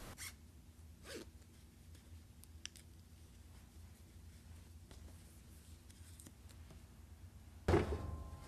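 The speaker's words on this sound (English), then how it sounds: "And we just put them inside the bag and zip it up." Near the end, a shoe laundry bag holding shoes is zipped shut in one quick, close zip, after a stretch of quiet handling clicks and rustles.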